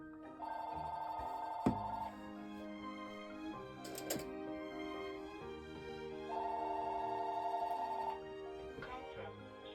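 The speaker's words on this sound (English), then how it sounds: "It never fails that the phone rings when I'm making a video" A telephone rings during a crafting session at a desk with a corner punch, giving two separate bursts of steady electronic trilling several seconds apart over quiet room sounds and faint tapping.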